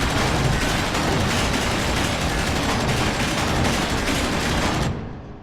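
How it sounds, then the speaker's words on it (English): Sustained, loud machine gun fire from the Space Engineers video game, a dense unbroken rattle for about five seconds that cuts off abruptly at the end. "the machine gun is actually pretty cool as well"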